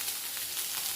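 Garlic and ginger sizzling in a pan over lowered gas, a steady hissing fry, fairly soft and even throughout.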